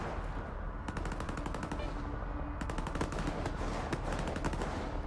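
Rapid automatic gunfire in the video game STALKER 2 rattles out in two sustained bursts, dense evenly spaced shots over a steady background rumble.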